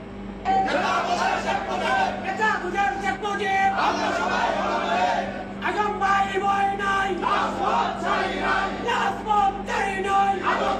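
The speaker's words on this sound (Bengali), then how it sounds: "এই হুজুর আলেম নামের জালেম যারা তারা কি ধরনের স্লোগান দিচ্ছেন দেখুন" A crowd of clerics chants slogans in unison, loud, rhythmic shouted phrases with short breaks between them, a dense mass of voices close by.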